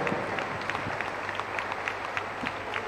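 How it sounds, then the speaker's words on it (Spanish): A crowd at a political panel event in Rosario, Argentina, gives steady, moderately loud applause, continuous clapping with a few sharper individual claps standing out throughout. "Un fuerte aplauso para los 5."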